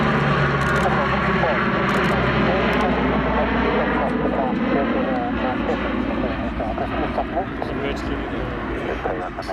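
A propeller aircraft, a Bombay carrying its undercarriage down, flies past at an airshow with a loud, rising engine drone that swells and then slowly fades, under a commentator's voice on a public address.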